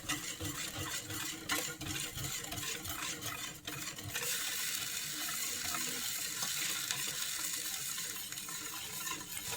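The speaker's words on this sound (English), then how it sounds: "I'm going to mix it with the whisk" A whisk works through a simmering churro dough mixture in a pot, giving a continuous, close, watery swishing with a brief pause before the steady stirring resumes.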